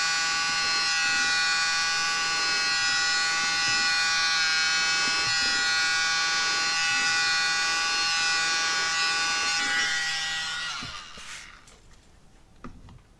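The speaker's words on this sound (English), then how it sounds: "Start at the center, work your way out, and then blow it across the colors." A small mini blower runs in a steady, high-pitched whine as it pushes acrylic pour paint across the colours, loud and close for about ten seconds before switching off and fading away.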